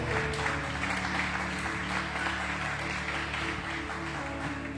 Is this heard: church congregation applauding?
yes